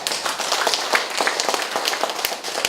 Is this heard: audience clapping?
yes